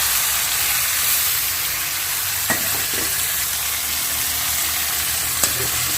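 Tomatoes sizzling in a hot frying pan, a loud continuous hiss and crackle with a couple of faint clinks of a utensil stirring.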